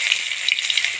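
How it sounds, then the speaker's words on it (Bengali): Black cumin seeds and crushed garlic sizzling in hot oil for tempering greens, a bright steady crackle with tiny pops, close and alone. "শাকে ফোড়ন দিব কালো জিরা আর রসুন"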